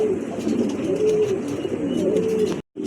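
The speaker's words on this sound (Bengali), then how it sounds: "খুবই চমৎকার এক জোড়া কবুতর" Two pigeons in a showroom coo in a steady, rolling rhythm close by, the low murmuring calls continuing throughout before a brief drop to silence near the end.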